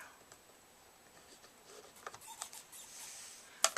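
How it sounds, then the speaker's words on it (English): Faint scratchy strokes of a marking tool dragging across quilt fabric, a few soft swipes in quick succession over quiet room tone, ending in a sharper scrape. "I'm going to take a marking tool and I'm going to mark right across here"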